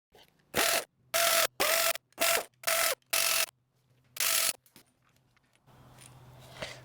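A 1/2 inch socket ratchet works on Classic Mini clutch housing bolts, with six loud bursts of rapid clicking, then one more after a pause, close up, followed by a faint background hum.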